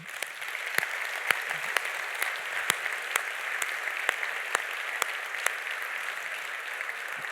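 An audience applauds American mayors at a public gathering with a soft, steady wash of clapping and a few sharper individual claps standing out.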